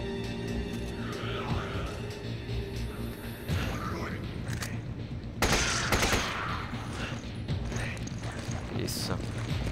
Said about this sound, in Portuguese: Tiro do caramba essa pistola, hein?